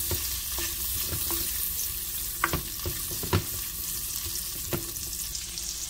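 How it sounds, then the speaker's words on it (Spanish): Bell pepper sautéing in melted butter in a pan, a steady close sizzle with repeated knocks and scrapes of a spoon stirring at an uneven pace, no one speaking. "Agregamos el pimiento. Y mezclamos un poquito."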